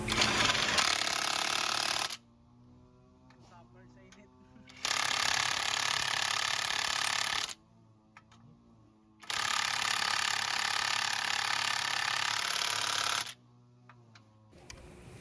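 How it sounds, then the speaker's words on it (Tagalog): Impact wrench with a size 14 socket tightening two bolts on a Honda Click scooter's rear brake assembly, loud broadband bursts of about two and three seconds separated by quieter pauses, no talk. "Gagamit ako dyan ng impact wrench na may socket na size 14."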